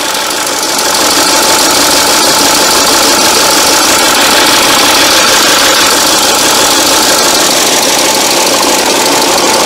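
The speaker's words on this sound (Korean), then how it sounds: "이 자동차가 엔진 소음이 좀 큽니다." A 2009 SsangYong Rexton with close to 300,000 km runs with a loud, steady engine drone and a faint knocking, idling evenly and alone for about ten seconds.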